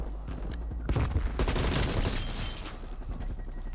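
Rapid XM4 rifle fire with crackling electric tracer effects in Black Ops Cold War, a dense close burst with sharp impacts and a buzzing zap near the middle, then tapering into scattered distant shots.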